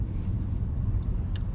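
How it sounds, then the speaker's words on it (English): Steady low rumble of a Tesla Model S Long Range ventilation fan blowing, a constant hum with no talking. "the fan's on, as you guys can probably hear it in the background."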